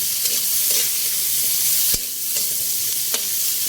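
Annatto seeds sizzle steadily in melted butter in a pan, a continuous close frying hiss with a few soft stirring clicks and one sharper tap partway through.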